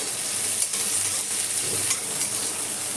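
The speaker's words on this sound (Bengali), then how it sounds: "পেঁয়াজ আদা রসুনটা একটুখানি আমি ভেজে নেবো কষা করে" Onion, ginger and garlic fry together in a pan, giving a close, steady sizzle with the scrape of stirring mixed in and no talk over it.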